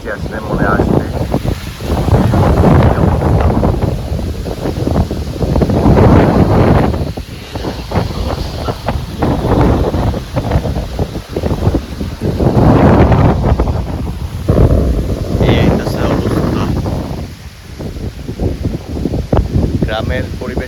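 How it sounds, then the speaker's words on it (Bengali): Strong wind gusts roar across a village on a stormy-looking morning with no rain falling, surging in loud, rough waves of buffeting with faint voices in the background. "প্রচন্ড বাতাস কিন্তু বৃষ্টি নাই"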